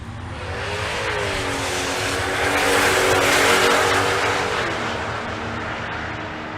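A Trans Am and a Camaro launch side by side in a drag race at Bandimere, their loud engines roaring hard and steady for several seconds. The sound swells near the middle, then eases slightly as they pull away.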